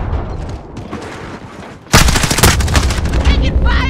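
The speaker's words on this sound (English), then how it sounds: "Taking fire!" M4A1 rifle fire in the video game Modern Warfare (2019): after a quieter stretch of background game sounds, loud, dense automatic bursts erupt suddenly and keep rattling on to the end.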